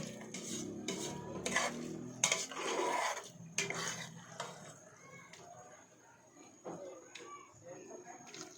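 A spoon scrapes and knocks against a pot while stirring ginataang bilobilo made with sticky rice balls, cassava, sweet potato, taro, banana and sago, giving close clanks and clatters mixed with a faint bubbling, with voices talking over it.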